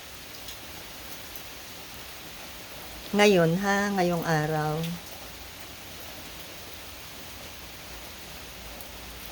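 Heavy rain in the woods keeps up a steady, even hiss of falling drops while someone speaks briefly partway through, the rain continuing alone before and after.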